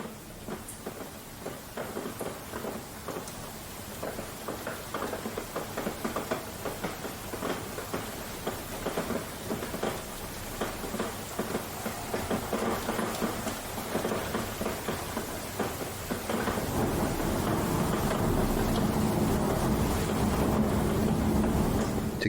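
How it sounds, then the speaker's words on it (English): Steady rain with rumbling thunder, a broad continuous wash that swells louder in the final seconds as a low roll builds underneath, with no voices. "The rain sounds nice."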